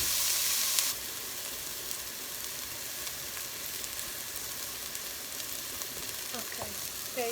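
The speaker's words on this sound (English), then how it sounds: "So I'm going to let this sweat or saute for about 2 minutes" Chopped onions sauteing in a hot pan for spaghetti bolognese, a steady close sizzle and crackle that runs throughout, briefly louder at the start, with faint clinks of stirring near the end.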